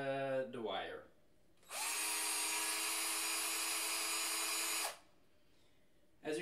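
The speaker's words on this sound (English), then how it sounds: "you make it a straight line and you start rotating the drill" A power drill spins to twist and straighten wire for 18650 battery busbars, a steady loud whir lasting about three seconds, with a voice speaking before and after it.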